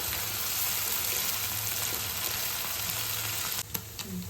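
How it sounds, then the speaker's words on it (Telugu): Paneer frying in a pan over a low flame, with a continuous close sizzle and fine crackle that breaks briefly near the end with a couple of soft knocks; no one speaks. "పన్నీరు ఇలా సిమ్లో పెట్టుకొని పన్నీరు దోరగా వేయించుకోవాలి"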